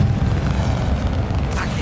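A brief Expelliarmus spell cast in Hogwarts Legacy, a loud low boom with rumbling energy lasting under two seconds and a bright swish at the tail.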